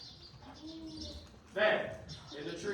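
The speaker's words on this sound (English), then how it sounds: "We are hearing birds song." Soft bird calls and a coo-like note chirp in the background while a person speaks nearby.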